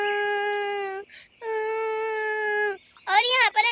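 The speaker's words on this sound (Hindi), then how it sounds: "ये तो मम्मी की रोने की आवाज़ है" A woman crying in a doll-story skit, sustained wailing sobs in two long bursts, then a shorter, wavering sob, loud and close with no other voices.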